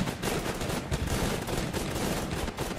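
Dense, continuous rapid gunfire from the top-down shooter Gun's Up, a loud unbroken barrage of overlapping shots with no pauses across the whole stretch.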